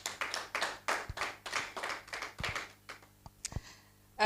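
Scattered, fairly faint handclaps from a small audience at a launch event come as separate sharp claps in uneven bursts, thinning out toward the end.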